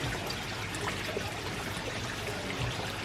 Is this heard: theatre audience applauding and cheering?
no